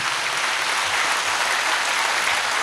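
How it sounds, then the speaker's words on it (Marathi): Audience applause at a lecture, a steady, dense clapping that fills the whole stretch evenly at close range with no break and no voices on top. "आपण जोरात टाळ्या वाजूया, हात वर करून, जोरात जोरात जोरात जोरात जोरात"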